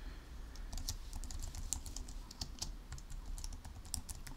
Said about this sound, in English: Start typing in details of the invoice.